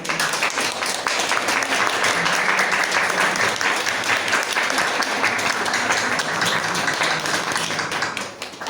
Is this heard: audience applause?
yes